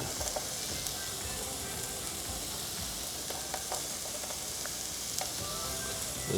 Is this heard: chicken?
yes